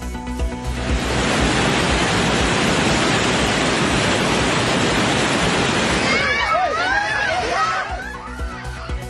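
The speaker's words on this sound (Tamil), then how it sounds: "பெலாங்கி அருவி பகுதியில் திடீர் வெள்ளப்பெருக்கு ஏற்பட்டதால் பதறியடித்து ஓடிய சுற்றுலா பயணிகள்." Sudden flash-flood water roars at Pelangi waterfall in Indonesia, a loud, dense, continuous rushing that fades near the end as a shrill warbling, chirping sound emerges over it.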